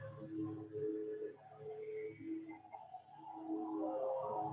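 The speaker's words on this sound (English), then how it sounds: "Just listen to that buzzing fractal server sound." Warbling, tonal electronic drones slide and shift in pitch over a low hum, an otherworldly buzzing server-like texture that stays at moderate, steady loudness throughout with no talk.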